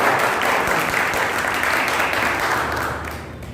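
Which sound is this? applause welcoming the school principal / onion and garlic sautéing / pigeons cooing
applause welcoming the school principal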